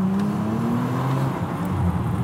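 Bentley Continental GT pulling away and driving, a steady engine drone heard from inside the car with a rising tone as it accelerates.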